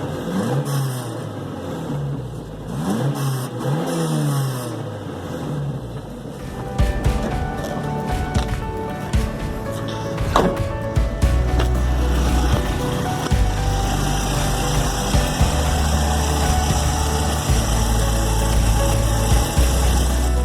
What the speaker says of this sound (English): so I can give it a few revs.